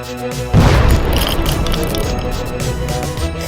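A loud, deep boom bursts out suddenly, then rumbles on with crackling debris and a rolling low roar that slowly settles.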